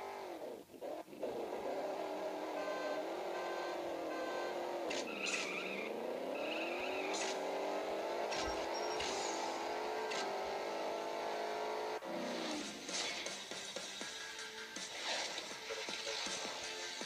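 A race car in the CSR Racing drag-racing game, its engine revving hard and climbing through several gear shifts, with brief tire squeal, loud and continuous with no talking.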